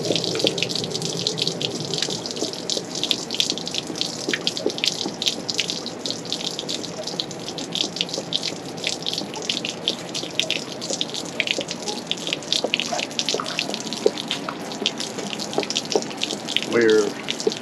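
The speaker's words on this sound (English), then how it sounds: "descaling the water heater." Water rushing out of an RV water heater being flushed and descaled, a steady hissing splash that runs continuously, with a few faint knocks and a brief voice near the end.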